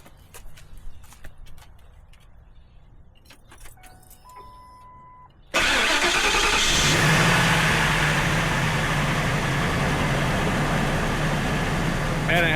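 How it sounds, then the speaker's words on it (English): A 1997 Ford F-150 engine with a newly replaced starter turns over quickly and fires up, then runs loud and steady close by. Quiet shuffling comes before it, and no one talks over the running engine. "Man, I haven't heard it spin over and start that fast in years."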